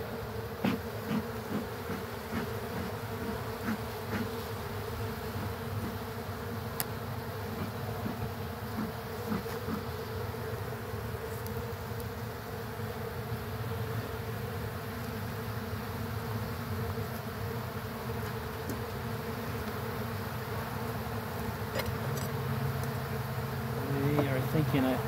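Dense, steady buzzing of many honeybees during a February inspection of a brown hive, close and loud throughout, with a droning hum that holds its intensity for the whole stretch.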